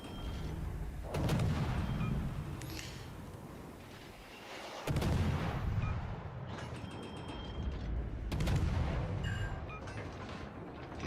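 Warship cannons fire in a naval battle video game, three heavy booming blasts a few seconds apart, each followed by a rumbling decay over low mechanical background noise.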